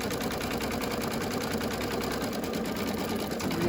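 An embroidery machine stitches out a planner cover design with a continuous, even mechanical hum and fast rhythmic needle chatter, steady and moderately loud.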